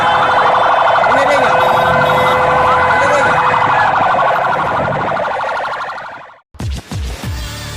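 Ambulance siren wailing loud and close in Indonesian traffic, a steady warbling tone that runs for about six seconds, then cuts off abruptly and gives way to a few short, sharp bursts.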